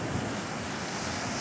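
Rough ocean waves on the Maui coast make a steady, loud roar, mixed with heavy wind buffeting the microphone.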